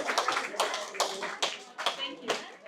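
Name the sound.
people clapping to welcome Hansaben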